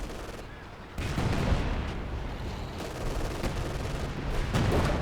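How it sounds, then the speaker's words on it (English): Artillery barrage in the World War II strategy game Company of Heroes 2: dense, continuous rumbling gunfire and distant blasts, growing heavier after the first second and carrying on steadily throughout. "they're using the zeroing artillery to try to take down the second mortar pit"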